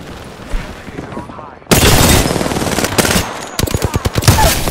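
Bursts of rapid automatic gunfire in the video game Apex Legends, loud and close, with a quieter stretch giving way to dense sustained firing and then sharp separate shots near the end.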